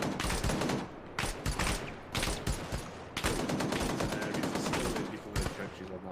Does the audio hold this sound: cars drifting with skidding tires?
no